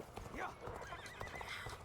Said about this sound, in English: Alright, horse. Get me to the place I need to go.